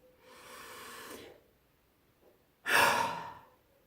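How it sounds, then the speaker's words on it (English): A deep breath drawn in through the nose, then a pause and a long forceful exhale, close and alone, as part of a guided breathing exercise done lying down. "take a deep breath and completely, with no screen, no hold back, let that exhale go"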